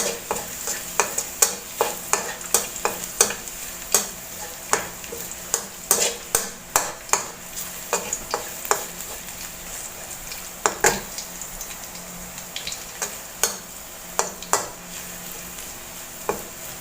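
Garlic cloves and shrimp stir-fried in hot oil, with a steady sizzle broken by frequent sharp scrapes and clacks of a utensil against the pan, close and fairly loud, with no voices.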